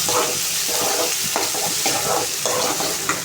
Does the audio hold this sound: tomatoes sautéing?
yes